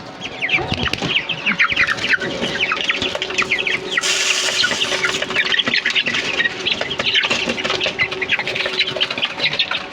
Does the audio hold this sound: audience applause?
no